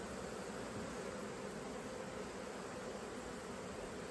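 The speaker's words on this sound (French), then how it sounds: "On voit bien les abeilles qui appellent là devant." Honeybees buzz at the entrance of a hive being worked with smoke, a steady, dense hum with no breaks, fairly faint and even throughout, with a constant high whine running alongside.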